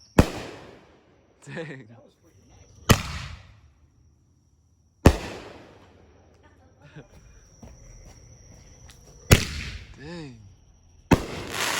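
Halloween fireworks burst in sharp, loud explosions spaced a few seconds apart, each cracking and then trailing off into a fading crackle, with a person speaking briefly between blasts.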